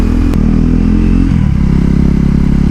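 Husqvarna single-cylinder motorcycle engine running loud and close, a deep throbbing thump that drops in pitch partway through as the revs settle, with steady mechanical clatter underneath.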